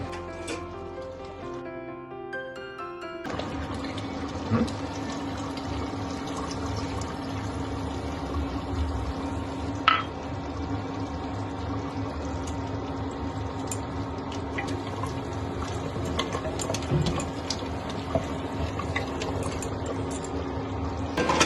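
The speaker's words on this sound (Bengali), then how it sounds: "তারপর প্রেসার কুকারটা খুলে তেঁতুলের জল দিয়ে দেই" Tamarind water poured into an open pressure cooker while cooking mutton paya (nihari), a steady close liquid pour running for about twenty seconds after a brief quiet start, with no talking.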